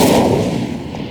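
A single loud, booming blast from an Incendio fire spell cast in the video game Hogwarts Legacy, a close, heavy burst that rumbles briefly and fades within about a second.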